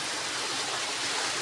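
Steady broadband rush of Busay Falls in Lugait, Misamis Oriental, a continuous dense roar of falling water with no pauses.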